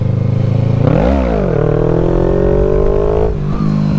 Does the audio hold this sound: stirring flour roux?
no